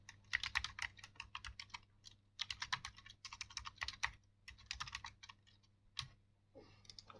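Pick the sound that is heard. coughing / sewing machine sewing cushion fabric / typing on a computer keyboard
typing on a computer keyboard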